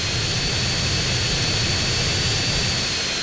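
Airplane flying in GTA San Andreas, a continuous loud roaring engine drone with a thin steady whine on top, constant in level throughout with no voices.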